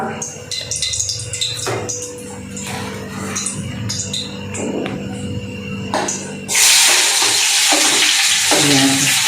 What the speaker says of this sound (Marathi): दोन चमचे तेल घ्यायचं, त्याच्यानंतर मोहरी जिरा टाकून घ्यायचा.